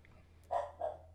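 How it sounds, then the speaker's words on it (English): A dog barks twice in the background, two short muffled yaps spaced about a third of a second apart, faint and alone behind the room tone. "Sorry if you're hearing a dog in the background."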